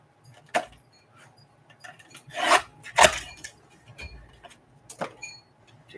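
Scissors trim a paper window envelope pocket in a few short rasping snips, separated by pauses, close and fairly quiet with no talking.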